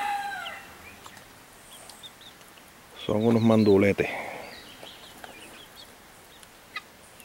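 Laying hens and roosters on a farm clucking and crowing, with a brief burst of nearby talking in the middle over the steady farmyard calls.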